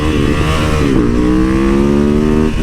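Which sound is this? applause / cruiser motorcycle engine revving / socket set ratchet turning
cruiser motorcycle engine revving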